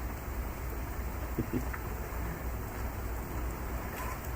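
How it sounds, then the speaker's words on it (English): Heavy rain falling outdoors in Cincinnati, Ohio, near an outdoor grill, a steady, soft hiss of rain with a few light taps standing out, fairly faint and continuous. "it is raining pretty hard."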